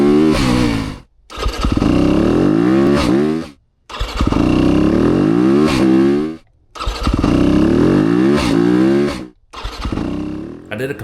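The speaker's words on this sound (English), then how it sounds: "I did some dead start testing during my last ride, and here are some clips of that." A 2025 Yamaha YZ250FX dirt bike fires up repeatedly during dead-start testing, with four separate bursts of loud engine revving and idling, each cut by brief silences.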